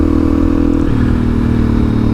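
Suzuki DRZ400SM supermoto engine running steadily while riding over loose gravel, a loud continuous droning hum with a slight drop in pitch partway through, faint clatter underneath, no talk.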